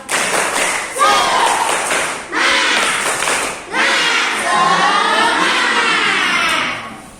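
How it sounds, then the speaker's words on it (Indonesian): Elementary school class doing a rhythmic spirit clap, loud and close, with bursts of patterned clapping and excited children's voices chanting along. "kita tepuk semangat dulu. Tepuk semangat."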